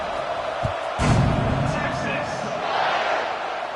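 A stadium crowd roars through a Texas vs South Carolina college football game, a broad continuous wash of cheering with a sharp thump and swell near the start, under a commentator's speech.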